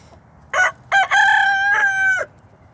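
A backyard garden rooster crows once, loud and close: two short clipped notes followed by a long drawn-out call that fades off sharply, standing alone over faint background.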